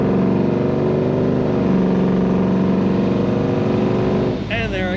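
A 1968 Chevrolet Nova with an automatic transmission kicks down as the engine revs hard, a loud sustained rising growl from inside the car, with shifting tone near the end.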